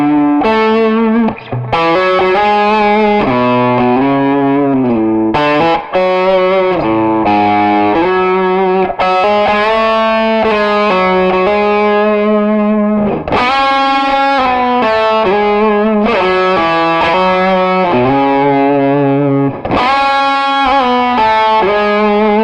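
Gibson Les Paul electric guitar with its tone control turned down, playing a melodic line with a warm, rounded, slightly overdriven tone, sustained notes ringing loudly and continuously.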